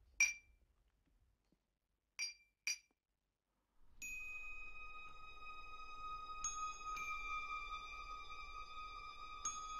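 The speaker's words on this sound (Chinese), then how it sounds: "今晚为了欢迎介公的到来，同时也是为了借酒明志，共赴国难，我提议干杯。" Drinking glasses clink in a toast at a formal welcome banquet in a historical drama: a few sharp, isolated chinks come first, then sustained bright ringing tones hold steady for the rest of the clip.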